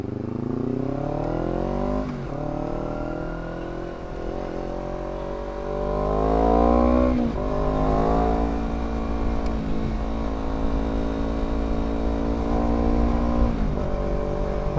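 A Honda CBR 250RR motorcycle accelerates hard at full throttle, its engine note climbing through the gears with steep rising harmonics and brief dips at each shift, loud and close throughout.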